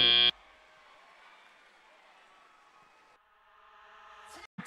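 At the 2020 FIRST Robotics Greater Kansas City Regional final, a loud, short match-ending buzzer blast sounds at the start, followed by a quieter sustained hum of arena noise.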